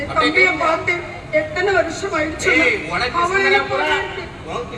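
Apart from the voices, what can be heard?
No everyday noises stand out.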